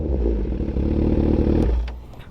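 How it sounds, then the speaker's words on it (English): A motorcycle exhaust rumbles loudly at close range, revving with a throaty, uneven roar before easing back down near the end. "But yeah, that's the exhaust."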